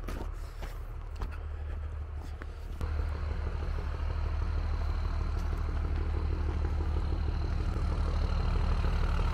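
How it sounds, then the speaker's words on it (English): A truck delivering a tractor idles with a low engine rumble, growing a little louder and fuller after a few seconds and holding a constant drone to the end. "I hear the sound of a truck. It is the sound of our tractor coming."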